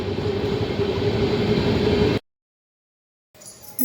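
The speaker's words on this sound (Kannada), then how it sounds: "ಸೊ ಟ್ರೈನ್ ಹೋಗ್ತಾ ಇದೆ ನೋಡಿರಿ" A train passes nearby with a loud, steady rumble and rattle for about two seconds. The sound then cuts to silence, and faint noise returns near the end.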